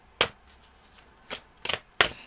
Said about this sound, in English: We're going to grab a few more cards here